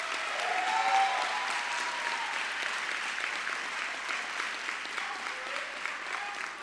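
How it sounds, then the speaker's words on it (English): A crowd at the John J. Duggan Academy 2022 graduation ceremony applauds with sustained, fairly soft clapping that holds evenly for several seconds. "Let's have a round of applause."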